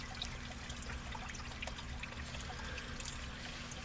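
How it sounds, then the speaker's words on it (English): Water pours steadily from a channel drain into a sump pit, a continuous splashing trickle with a low pump hum beneath, close and unbroken. "This water's just pouring in here."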